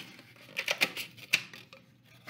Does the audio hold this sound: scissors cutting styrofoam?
yes